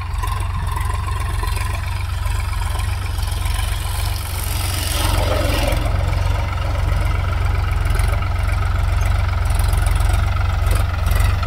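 A tractor engine idles steadily nearby, a loud low chugging rumble that runs unbroken throughout.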